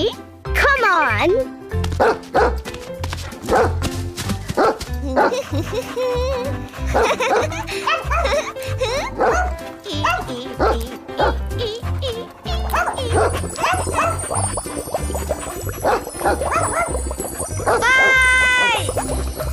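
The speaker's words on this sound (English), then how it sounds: "Dog." Dog barking in a children's farm animal learning game, short bright yips and bow-wows scattered among cheerful music and sound effects, with a voice and giggles over the top.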